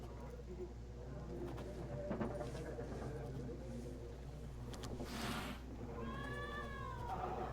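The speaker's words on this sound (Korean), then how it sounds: "고양이요. 고양이 저기." A cat meows in The Witcher 3 game, a rising-and-falling mew near the end over a low ambient hum and faint background chatter, with quieter incidental sounds earlier.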